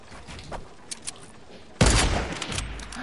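A burst of video game gunfire erupts partway through, loud and close, after a stretch of faint ticks and quieter background sounds, then trails into lingering rumble.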